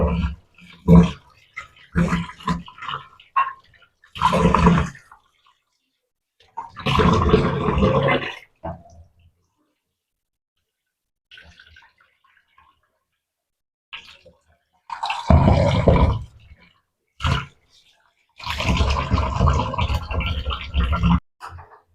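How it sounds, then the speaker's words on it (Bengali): Rice being washed in a bowl of water, bursts of swishing and sloshing with water splashing, close and fairly loud, separated by quiet pauses, no talking. "এবার চালটা কিন্তু আমি ধুয়ে নেব"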